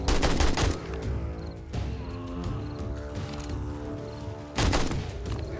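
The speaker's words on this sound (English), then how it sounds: "place the turrets to actually fire at the zombies" Automated turrets firing at zombies in 7 Days to Die, loud rattling bursts at the start and again near the end, with a sustained mechanical hum in between.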